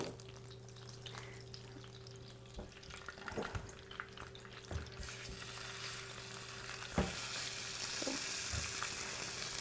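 Lamb knuckles fry in oil with a steady close sizzle under a faint hum, punctuated by occasional pops and clatters, growing louder as more oil goes into the pan.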